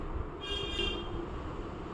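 Metro train at the National College station: a faint, steady low rumble with a brief high metallic whine rising in the middle.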